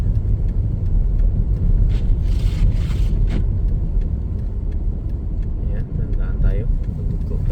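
A car rolls along a snow-covered road in Canada, its engine and tire rumble steady and close inside the cabin, with people talking over it throughout.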